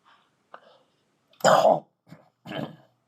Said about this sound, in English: Excuse me, got the cough this morning.